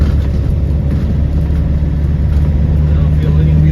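A 1997 Land Rover Defender 90 with the 300Tdi diesel engine drives in second gear on snowy roads, a loud steady low engine drone and rumble from inside the cab.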